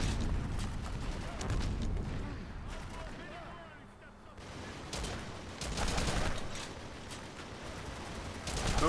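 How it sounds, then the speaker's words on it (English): Chain gun fire in the video game Haze, a steady roar of rapid automatic shots with booming bursts, mixed with other battle noise and someone talking over it. "the guy that I'm with has a friggin' chain gun"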